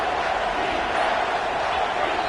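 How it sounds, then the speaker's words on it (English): A stadium crowd roars steadily in a college football video game, a loud and continuous wash of noise that holds without a break. "with this place rocking, the crowd forces a false start"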